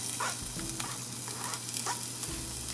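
Garlic and ginger frying in oil for Filipino sinigang soup, a steady close sizzle with a few soft stirring scrapes and no talk.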